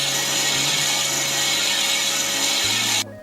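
Metal sundial rings for an armillary sphere have their outer faces machined in a shop, producing a loud, steady, close grinding whine with a tonal hum that cuts off abruptly near the end.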